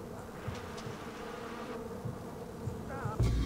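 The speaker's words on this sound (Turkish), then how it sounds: "Ay arılar bastı." Bees swarm in the video game Far Cry 4, a steady close insect buzz droning throughout with faint game effects and a soft thud near the end.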